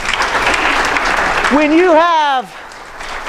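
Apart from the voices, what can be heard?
audience applause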